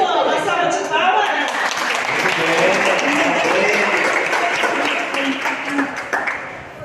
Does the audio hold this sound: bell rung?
no